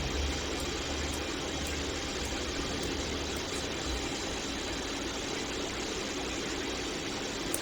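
A Daikin DC fan motor runs under speed control, giving a quiet, constant electric hum with faint high ticks, steady throughout and without voices.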